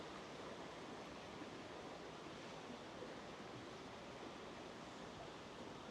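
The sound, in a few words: brook running water in park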